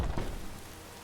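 Rain ambience in the Morrowind role-playing game, a soft, dense patter and hiss that fades slightly over a brief moment, with no voices.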